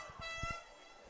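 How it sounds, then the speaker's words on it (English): An air horn blares at a high school football game, a sustained harmonic honk over crowd and stadium noise, with low thumps underneath, fairly distant and moderately loud. "We got an air horn going off here"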